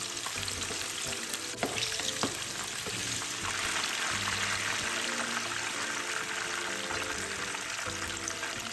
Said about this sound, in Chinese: 将剩余的鸡块油炸至全部完成。